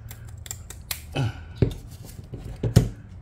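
Scissors snip through Talon handgun grip material in a few sharp, close cuts, loud crisp clicks separated by short pauses with no talk.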